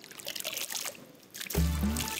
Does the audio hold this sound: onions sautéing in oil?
no